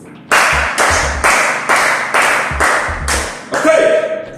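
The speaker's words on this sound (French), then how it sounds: "Applaudissez pour vous." Group of people clapping in a strong unison rhythm, seven loud synchronized claps with short gaps, closing on a final burst of cheering.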